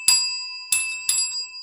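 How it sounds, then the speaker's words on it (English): A bicycle-style bell rings three times, crisp metallic dings with lingering tones, the first alone and the last two close together, then quiet. "Bell?"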